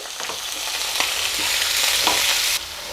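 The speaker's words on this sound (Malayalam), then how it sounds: "അതെല്ലാം കൂടി ഇട്ടിട്ട് ഒന്നങ്ങ് വഴറ്റി കൊടുക്കാം" Onion, green chillies and ginger-garlic paste sauté in a pan for tomato rice, giving a steady close sizzle with scraping stir strokes and no voices.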